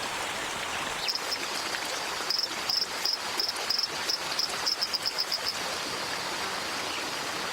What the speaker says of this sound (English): With a chorus of croaks to alert female onlookers